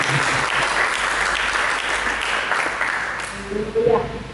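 A congregation applauds in church during a sermon. Sustained, dense clapping gradually thins out, and a voice starts speaking over the fading applause near the end.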